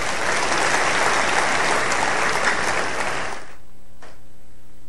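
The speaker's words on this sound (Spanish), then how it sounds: "Dale un buen aplauso." A church congregation at a Bible study claps steadily and loudly for several seconds, then the applause stops abruptly, leaving a quiet room with a single faint knock.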